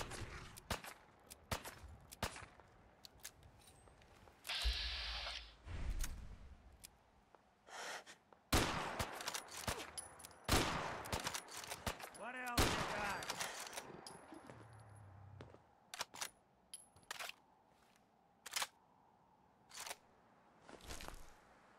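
Scattered gunshots from a weapon in Fallout 4, sharp broadband cracks spread across the stretch with gaps between them, some louder bursts, alongside occasional voice sounds and game noises.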